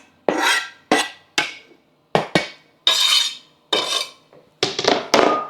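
Chopped onions tipped into a pan already holding meat while making Rotel dip, giving a run of loud, close scraping and clattering bursts of food and utensil against the pan, with short pauses between them and no talking.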